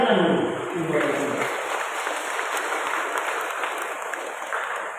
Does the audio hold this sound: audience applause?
yes